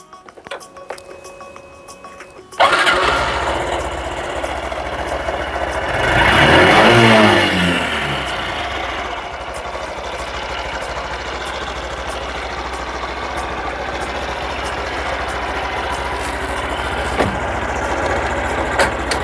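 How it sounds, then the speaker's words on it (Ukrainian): A Honda Super Cub motorcycle engine starts abruptly, revs up loudly for a few seconds, then settles into a steady, close running idle. "Двигун працює на відмінно."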